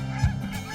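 Geese flying in formation beside a microlight aircraft over the Planèze de Saint-Flour in Cantal give a single loud, close honk above a constant engine drone.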